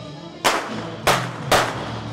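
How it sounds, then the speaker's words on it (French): Remote-controlled model warships fire pyrotechnic primer cannon shots, three sharp loud bangs spaced about half a second apart, each with a short fading tail. "tous les navires sont équipés d'amorces et sont commandés à distance eh bien, pour effectuer le tir des canons"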